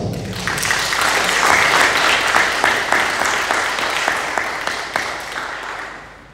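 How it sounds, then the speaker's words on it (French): An audience at a literary festival round table applauds a prize-winning crime novelist, steady loud clapping from many hands that swells, holds, then slowly fades out. "Pour Châtiment, je pense que vous pouvez l'applaudir pour ça."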